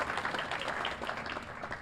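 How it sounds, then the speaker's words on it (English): Dense, continuous applause from an audience at a Hall of Fame induction ceremony, loud and even throughout the brief moment. "Yes, you may give him a round of applause"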